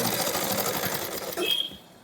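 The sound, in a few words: sewing machine stitching the back seam of a shirt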